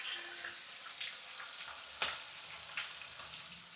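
Red fish fries with onion paste in a pan, a soft, steady sizzle at low volume broken by a few sharper pops and spits, one stronger burst midway.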